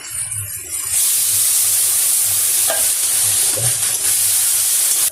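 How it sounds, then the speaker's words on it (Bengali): Spice paste with onion and tomato fries in a pan, a loud steady sizzle and hiss with occasional stirring scrapes, close and continuous. "ভালো করে কিন্তু মশলাটা একটু কষিয়ে"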